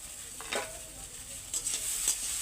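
Small fish go into a hot pan with vegetables for a Bengali chorchori, setting off a bright steady sizzle with a few spatula scrapes, close up and without speech.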